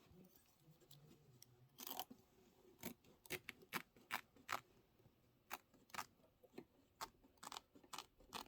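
Sharp scissor snips trimming fabric while sewing a witch-hat pillow, about a dozen crisp close cuts spaced irregularly across a quiet room.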